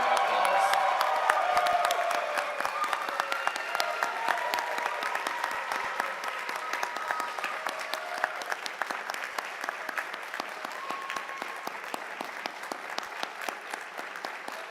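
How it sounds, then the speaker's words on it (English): Sustained applause from an audience of newly sworn-in U.S. citizens at a naturalization ceremony in a theater, loudest at the start and then tapering slightly while continuing steadily to the end. "I think they deserve a round of applause."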